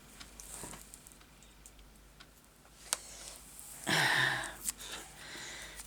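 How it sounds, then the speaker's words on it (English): A plastic bag crinkles and rustles in a burst of dry crackling close by at a craft table, following faint ticks and small taps in a quiet room. "It's my plastic bag."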